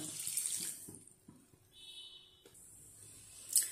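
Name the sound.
water being added for sugar syrup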